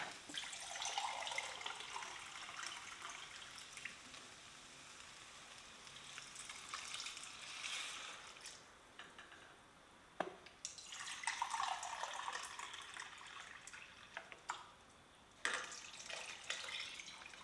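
Water runs into a pot for lentil soup in a kitchen, a soft hissing pour in a few bursts with brief pauses and drips, fairly quiet and without talk.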